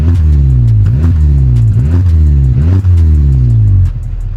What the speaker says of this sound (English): It sounds lovely. It's got a nice little exhaust on it.